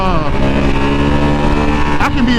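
A 2020 Ducati V2 motorcycle engine while riding, a loud, steady, close drone with a rising tone toward the end, heard continuously throughout.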